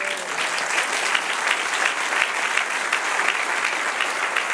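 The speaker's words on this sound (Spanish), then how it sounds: "Dale un aplauso al Señor." Steady applause from a church congregation during a Spanish-language worship service, dense clapping filling the room evenly and continuously with no pauses.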